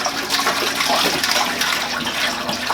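Steady gushing pour of liquid into a pot for brewing ayahuasca, close and continuous, a full-volume splashing stream with no talking.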